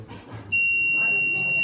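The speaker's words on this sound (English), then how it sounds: "And the buzzer is activated." An alarm system buzzer from an electronics project with water and gas sensors switches on abruptly and holds a steady, loud, piercing electronic tone after a brief moment of faint background sound.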